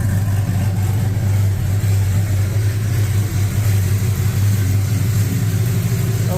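A Chevy LS V8 idles steadily after a tune-up with new spark plugs, a loud, close, continuous low rumble with a slightly uneven lope and no talking.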